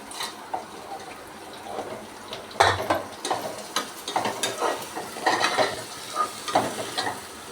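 Curry leaves, cinnamon, black pepper and cardamom dropped into hot oil with browned onions for a mutton gravy, giving a close steady sizzle with spatula stirring and scraping clatters at irregular intervals and no talk.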